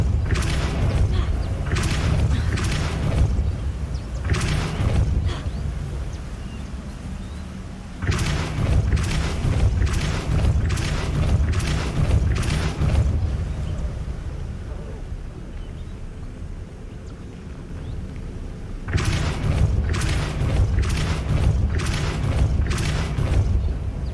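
Depulso spell blasts in Hogwarts Legacy: several loud booming bursts, each made of rapid crackling thuds, with quieter low rumbling between them.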